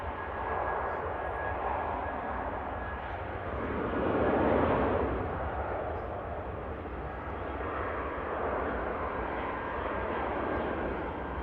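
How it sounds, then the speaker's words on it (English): A Vueling jet at Manchester Airport spools up its engines for departure to Barcelona. A broad roar swells and peaks, then settles into a steady rumble heard from a distance. "the Vueling spools up,"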